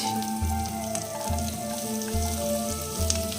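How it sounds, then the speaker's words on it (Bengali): Chopped onion and garlic fry in a pan of melted butter and oil, giving a steady, close sizzle that runs the whole time with a low, pulsing hum beneath it. "দেখুন পেঁয়াজ আর রসুনটা ভাজা হয়ে গেছে প্রায়।"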